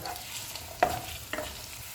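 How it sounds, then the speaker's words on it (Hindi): Onions frying in melted butter in a pan with a steady crackle, broken by two sharp bursts as food stirs or drops in, close by with no talking. "प्याज को 1 मिनट तक फ्राई करेंगे।"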